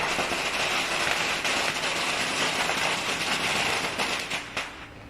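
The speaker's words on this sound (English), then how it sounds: "There was the fireworks." Fireworks set off in Thailand, heard through video playback as a dense, steady crackling roar of rapid pops, loud and continuous, easing slightly toward the end.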